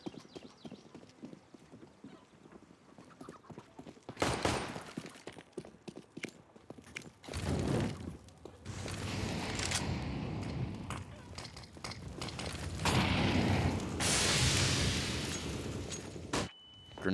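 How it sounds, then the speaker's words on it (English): Grenades go off during a Counter-Strike match on the Inferno map, with several loud bursts and blasts breaking over a lower bed of game noise and faint commentary, the explosions clustered in the second half. "Grenades being exchanged on Banana"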